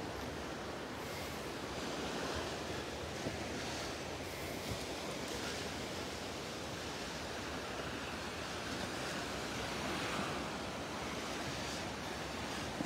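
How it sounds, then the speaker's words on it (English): Ocean waves on Delnor-Wiggins beach in Southwest Florida wash in a constant, fairly quiet roar of surf with wind noise, no speech. "This water should be starting to clear up a little bit as the waves start to die down."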